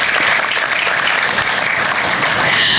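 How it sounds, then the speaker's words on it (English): Students at an interschool sustainable-development competition burst into loud, sustained applause for their teachers and coordinators, a dense, steady wash of clapping that fills the room without a break. "All the students, please give a huge round of applause to your teachers, coordinators, those who were there working with you."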